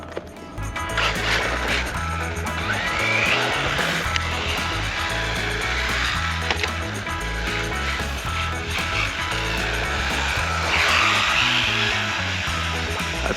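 A 1/16 scale 4WD brushless RC drift car runs at full throttle, its motor whine and rattling drivetrain buzzing continuously with rising and falling surges, fairly close, no talk over it.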